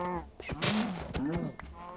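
Cattle in the Minecraft video game moo in several drawn-out calls, close and fairly loud, each lowing rising and falling with no talk over them.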